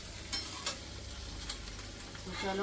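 Potato bhaji cooking in a pan over a low gas flame: a soft, steady sizzle with a few light spoon clinks from stirring, quiet and close.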